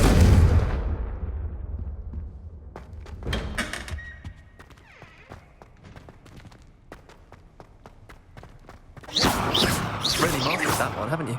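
Confringo spell explosion in Hogwarts Legacy, a loud booming blast that decays over about two seconds, followed by scattered clicks and thuds and later a burst of dense noisy crackling.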